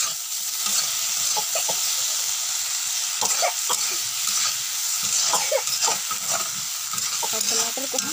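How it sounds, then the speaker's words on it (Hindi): Chopped tomato and ginger-garlic paste added to a frying pan of potato and onion-leaf bhujiya, with a continuous loud sizzle, stirring scrapes and clatter of a utensil against the pan. "अब मैं इसमें डाल रही हूँ दोस्तों हमारा एक मीडियम साइज का कटा हुआ टमाटर और थोड़ा सा अदरक लहसुन का पेस्ट।"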